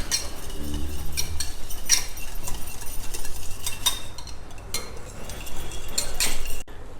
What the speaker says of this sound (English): Whisk it well till it is nice and smooth.